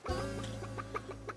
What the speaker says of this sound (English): You're putting actual chickens in the audience?